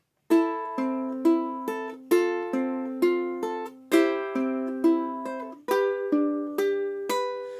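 Bright plucked ukulele notes roll out one at a time in a repeating pattern, each ringing briefly before the next string sounds.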